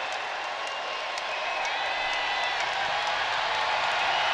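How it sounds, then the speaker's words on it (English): Basketball crowd at Colonial Life Arena during a Gamecocks women's game against Kansas State, a steady, loud broadband roar of cheering and noise that holds throughout without a break, with faint clapping inside it. "Crowd on its feet here inside Colonial Life Arena, making some noise."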